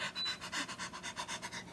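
A person imitates a dog panting, with about nine quick, breathy huffs in a steady rhythm, close and fairly soft, with no other sound.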